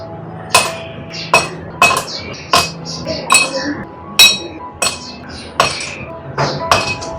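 Ice cubes clinking against a glass as raw mango panha is served, a series of bright, sharp clinks spaced about a second apart, close and loud, with light talk in the background.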